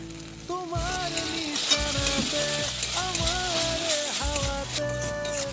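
Ginger, garlic and chilli paste frying in oil with ground cumin gives a steady, close sizzle that runs the whole time beneath tuneful background music.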